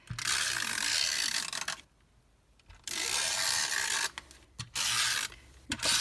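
A Stampin' Up snail adhesive tape runner rolls across a card panel in several close, raspy ratcheting strokes separated by short silent gaps.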